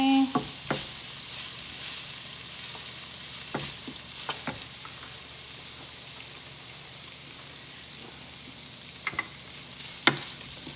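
Garlic sizzles steadily in a heated pan, a constant crackling fry with occasional louder pops and utensil clicks throughout.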